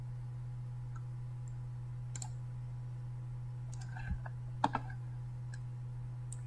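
A few sharp computer mouse clicks spaced out over a steady low electrical hum in a quiet room while setting up Android Studio on a Windows 10 PC, faint and close with gaps between them.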